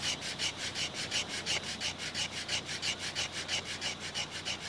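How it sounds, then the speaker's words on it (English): Rhythmic back-and-forth scraping of a soft wooden plow rubbed along dry hardwood to make fire, steady strokes about four per second, close and alone. "A dry piece of hardwood was rubbed with a soft plow."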